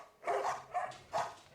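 A dog barks three times in quick succession, fairly close and clear, with short gaps between the barks and no voices.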